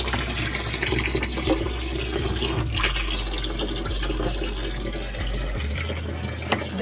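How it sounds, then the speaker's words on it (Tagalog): Water drains in a continuous gushing, splashing flow from a washing machine that was just unclogged, close and fairly loud, with a few gurgles and drips throughout. "Ayan, tuloy-tuloy na yung pag-agos niya."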